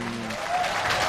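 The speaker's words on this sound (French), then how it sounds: "Applaudissements s'il vous plaît." Brief burst of audience applause at a university ceremony in Kinshasa where President Félix Tshisekedi receives an honorary doctorate, a dense patter of clapping that swells slightly, with a voice fading under it.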